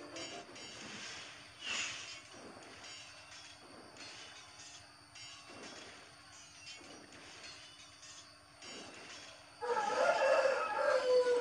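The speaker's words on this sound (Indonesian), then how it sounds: "Suara ayam." Rooster crowing in the video game Rise of Kingdoms, several drawn-out cock-a-doodle-doo calls spaced a couple of seconds apart over quiet ambient sound, followed by a louder burst of game audio at the end.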